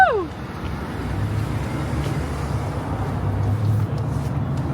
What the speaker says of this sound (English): I'm gonna drive this thing